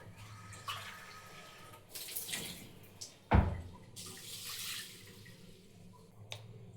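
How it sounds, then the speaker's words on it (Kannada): Glasses of water are poured into a pressure cooker holding horse gram. There are two soft splashing pours with a sharp clank between them, all fairly quiet. "ಇವಾಗ ಒಂದೆರಡು ಲೋಟ ನೀರು ಹಾಕೋತೀನಿ"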